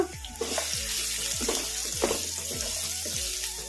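Chopped carrots frying in a pan over a medium flame, a steady sizzle broken by a regular rhythm of spoon scrapes and stirring, close and continuous with no talking.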